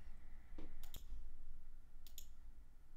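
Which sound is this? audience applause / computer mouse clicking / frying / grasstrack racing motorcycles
computer mouse clicking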